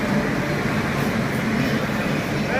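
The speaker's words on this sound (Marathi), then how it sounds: "ट्रेन आली बघा आपली" A train pulling into a station platform in Indore, heard as a steady, loud rumble of rolling wagons and wheel noise filling the whole clip, with faint voices nearby.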